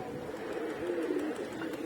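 Pigeons in a rooftop loft with young birds, a soft continuous throaty cooing heard close and steady, with faint background ambience and no speech over it.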